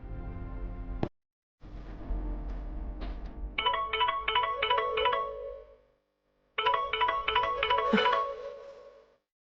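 A mobile phone ringtone for an incoming call plays a repeating chiming melodic pattern in two bursts with a brief gap, preceded by a short musical sting; clear and close, no talk.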